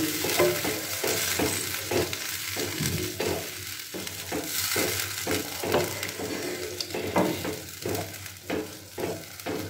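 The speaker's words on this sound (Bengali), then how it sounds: "জলটা দিয়ে ভালো করে নাড়াচাড়া করে এবার আমি এটাকে কিছুক্ষণের জন্য ঢাকা দিয়ে দেবো।" Bengali-style Tangra fish curry with potatoes stirred in a pan after water goes in: rhythmic scraping and sloshing strokes repeat roughly every half second over a soft bubbling simmer, close and clear, with no voices.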